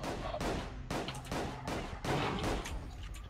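Repeated gunshots from an enemy in an unnamed first-person shooter video game, several sharp broadband bursts about half a second apart, loud and close with no talk over them.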